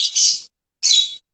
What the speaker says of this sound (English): You got a birds there